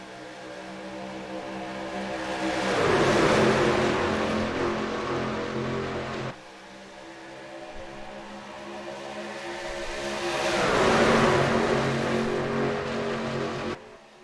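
Race trucks roar past at Daytona in a racing video game, the engine noise swelling twice as the pack sweeps by and then fading, with a steady drone underneath.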